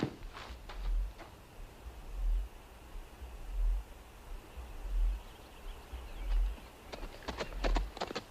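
Horses galloping in a western film: rhythmic, muffled hoofbeats recur in fairly faint bursts over a soft, hissy background.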